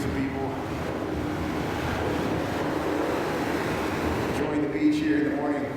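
Ocean-style surf on Lake Michigan at a Chicago beach, a continuous broad wash of breaking waves with wind buffeting the microphone, heard while walking, with voices faintly present.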